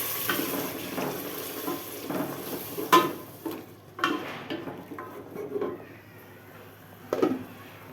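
Blended garlic, onion, ginger, dried chilli, cinnamon, bay leaf and cardamom are stirred as they fry in a pan for beef rezala, giving a soft sizzle with scraping strokes and occasional louder clacks.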